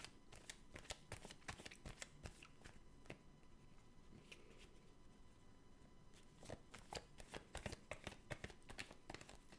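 Playing cards shuffled by hand in rapid bursts of crisp riffling clicks, close and quiet, with brief pauses between shuffles and no talking.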